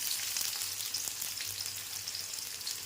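Onions sizzle in hot oil for biryani, a dense steady crackling fry close by, with faint stirring taps underneath and no voices.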